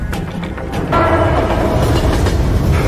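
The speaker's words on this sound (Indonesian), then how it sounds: "Detik-detik kereta mendekat" A train approaches with a loud, steady rumble of rolling wheels that swells noticeably after the first second and stays heavy to the end, with no voices.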